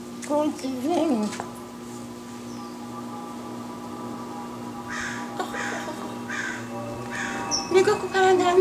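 A crow caws several times from outdoors, with a voice and an adult talking over the first second or so, amid steady low background hum.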